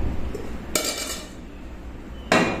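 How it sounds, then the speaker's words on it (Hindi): Cooked meat being pounded in a mortar gives two sharp, close knocks about a second and a half apart over quiet kitchen background, with no talking. "कुछ इस तरह ना दौरे में गोश्त को कूट लेना है।"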